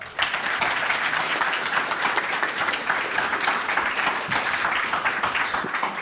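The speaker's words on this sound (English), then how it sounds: "So give him a round of applause, please" Steady, dense applause from a conference audience at Pocket Gamer Connects Helsinki, a games-industry event. The clapping fills the room evenly for several seconds, loud and continuous with no speech.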